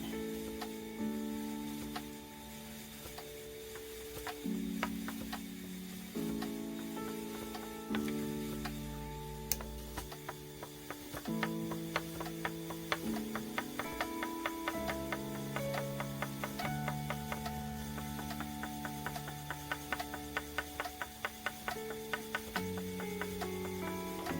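A spinning wheel plying art yarn runs steadily for the whole stretch, with a regular mechanical ticking and clicking over a sustained tonal hum that shifts pitch as the wheel is worked.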